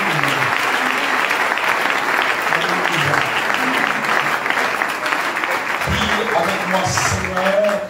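A church congregation applauding in loud, sustained clapping that fills the whole stretch, with someone speaking French over it near the end.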